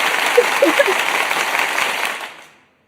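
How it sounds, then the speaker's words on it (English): Audience applause during a podcast episode celebrating a single debut, a dense round of clapping with a few whoops and voices mixed in, steady and then fading out at the end. "we're going to give you that round of applause"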